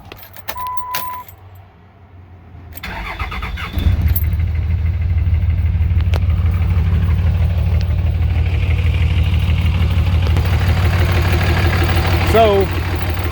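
A Cummins diesel in a Dodge truck, suspected of a stuck injector, cranks and starts after keys jangle, then settles into a loud, steady, close-up idle.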